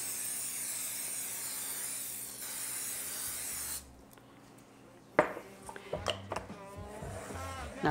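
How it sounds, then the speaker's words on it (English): A continuous hiss of cooking spray coating a muffin tin for about four seconds, followed by clinks and clatter of the metal tin being handled nearby. "definitely make sure that you spray it really well"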